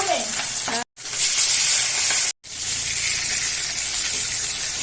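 Fish coated in salt and turmeric sizzles and crackles loudly in hot oil, a steady close frying hiss, with a voice briefly heard at the start.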